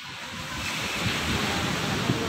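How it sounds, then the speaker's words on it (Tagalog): Strong ocean waves surge and crash continuously at a beach resort in Fujairah, UAE, with gusty wind buffeting the microphone. "Lakas ng alon."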